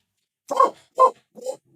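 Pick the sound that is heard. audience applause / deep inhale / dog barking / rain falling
dog barking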